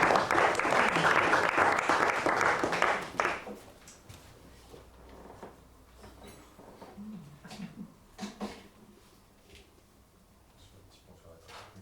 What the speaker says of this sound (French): Je vous demande d'applaudir Monsieur Michel Tabaran.